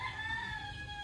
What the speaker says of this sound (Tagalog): Native chicken yan mga kababayan.